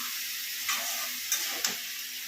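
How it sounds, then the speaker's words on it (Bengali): Ground cumin, coriander and Kashmiri chilli powder sizzle in a pan of prawns and Malabar spinach, a steady frying hiss broken by three sharp spatula scrapes while being stirred, no voices. "জিরের গুঁড়ো একটু, ধনিয়া গুঁড়ো একটু দিয়ে দেবো। দিয়ে আর একটু নাড়াচাড়া করে নেব"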